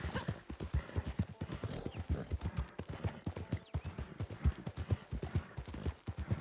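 Horse hooves galloping in Red Dead Online, a rapid, steady clip-clop rhythm of thudding hoofbeats that stays close and even throughout.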